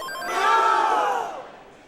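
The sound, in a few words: crowd cheering at Classic Tetris World Championship finals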